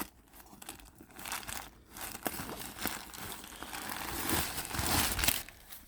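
Crinkly packaging around a Coach handbag being unwrapped up close, a steady run of crackling and tearing rustles that grows busier and louder toward the end.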